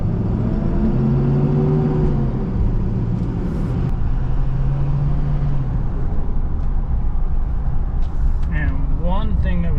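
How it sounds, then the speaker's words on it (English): Diesel tow truck engine heard from inside the cab on the move, a steady low rumble and drone with shifting tones throughout, fairly subdued, and a brief higher whine near the end. "It's fairly quiet on the inside. It's got your typical diesel sound"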